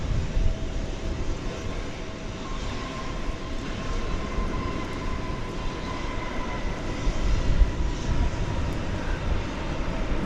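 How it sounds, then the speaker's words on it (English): An American Airlines Airbus A321 touches down at DFW Airport at night with a low, broad rumble and roar that swells slightly near the end, and no voices. "Just touching down after a journey from San Francisco. 2 hours and 50 minutes on an Airbus A321."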